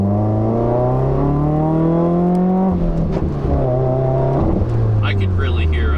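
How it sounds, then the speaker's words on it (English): A 2015 Subaru WRX pulls hard with a loud, rising exhaust drone and a faint turbo whistle above it, shifting gears twice as the pitch climbs again, heard from inside the car. "I could really hear like the turbo spooling up, even just like mild acceleration."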